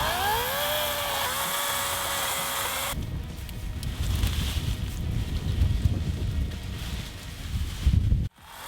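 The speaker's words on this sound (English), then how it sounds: "So I'm using the Litheli 14-inch chainsaw." A whining Litheli 14-inch battery chainsaw runs at steady pitch, then cuts through small trees with a rough, gritty buzz for several seconds before stopping abruptly.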